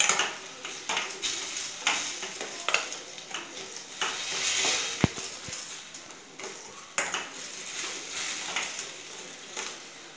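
Onions and tomatoes sauté in oil with rock salt for a South Indian fish curry, a steady sizzle under repeated close metal scrapes and clinks of a spoon against the pan.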